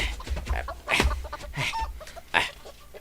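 A chicken clucks nearby in several loud, uneven bursts with softer chatter between them, a farmyard fowl heard up close with no talking over it.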